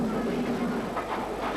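A 1958 steam train on the Abergavenny to Merthyr line, with a coal tank engine leading a Super D locomotive round reverse curves on a mountain slope, gives a steady, continuous rumbling roar throughout.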